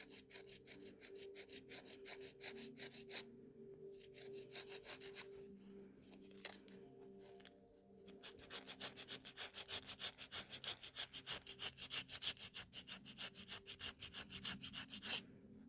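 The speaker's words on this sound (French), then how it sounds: "Je lime la bordure du dessus." An artificial nail's top edge is filed with a nail file in quick, rhythmic back-and-forth rasping strokes, close and steady, pausing briefly midway before resuming faster.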